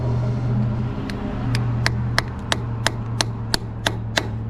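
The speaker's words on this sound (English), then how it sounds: "before taking out any of these plugs, I'm going to give them a good tap just to break loose any rust or corrosion" Around ten sharp, evenly spaced metallic taps strike the drain plugs of a Kubota KX033-4 excavator to loosen rust, heard close over a steady low background hum.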